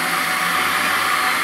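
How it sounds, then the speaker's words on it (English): Stick blender running on low speed, mixing soap batter made with lye and heated milk, a steady close motor whir that holds constant with no other sounds. "And then I'm going to put my stick blender just on a low speed."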